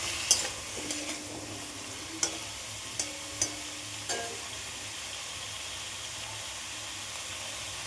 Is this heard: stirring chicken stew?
yes